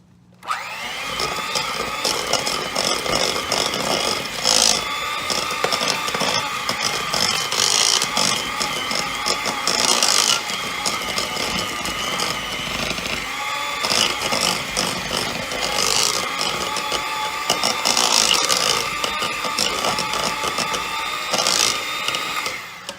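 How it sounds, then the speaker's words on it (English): An electric mixer beats cookie dough at medium speed, a loud, steady mechanical whir that runs without a break for over twenty seconds. No voices. "so we're going to beat it at medium speed"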